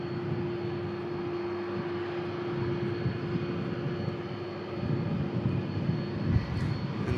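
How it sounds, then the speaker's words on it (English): An airliner, a Sunny G flight from Antalya, coming in to touch down gives a steady, moderately loud engine roar with a sustained drone, swelling slightly toward the end, with no voices. "And the next aircraft to touch down is the aircraft that brought me back from Antalya."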